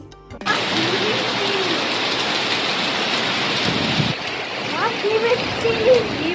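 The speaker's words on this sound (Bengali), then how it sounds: "বৃষ্টি নেমেছে দেখো বা বা বাপরে ঝামাঝাম" Heavy rain pours down in a loud, dense, continuous roar close by, with faint voices and a few tonal sounds rising over it near the end.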